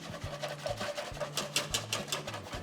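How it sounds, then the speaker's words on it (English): A whisk scrapes through polenta and cold liquid in a pot, a quick run of soft scratchy strokes under steady background music. "Now I'm just whisking this in now."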